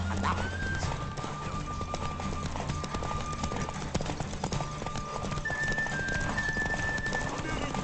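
Hooves of Roach, a horse in The Witcher 3 video game, clip-clop steadily at a derby race, close and continuous, with a brief whinny and crowd noise behind.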